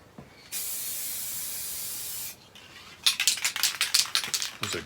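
An aerosol spray can hisses out paint in one steady burst of almost two seconds during a car respray of a Mercedes SLK R170, followed by a series of short clattering knocks and taps nearby.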